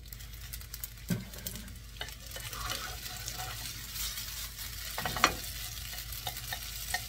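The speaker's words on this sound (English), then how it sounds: "Stir fry the noodles." Cooked noodles with chicken and vegetables frying in a pan, with close scraping strokes of stirring at irregular intervals over a low steady sizzle and no voices.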